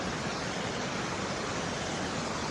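A forest waterfall rushes as a dense, constant roar of falling water. It is loud and close, steady throughout, with no voices.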